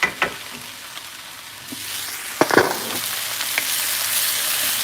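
Onion and carrots sizzle in a pan during home hibachi cooking, a steady frying hiss that thickens partway through, broken by a few sharp clicks and scrapes of utensils.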